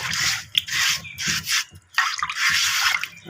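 Steady, close scrubbing and rubbing against a new clay pot's hard surface during washing, with short wet splashes and drips in between.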